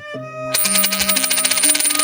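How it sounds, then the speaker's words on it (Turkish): Loose coins being shaken, a bright jingling rattle that starts after a brief tonal chime and continues in quick uneven bursts, close and clear with no talking. "tekrar bozuk para sallandı"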